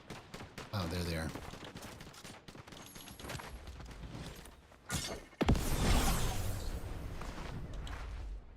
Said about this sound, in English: Where did those gunshots come from?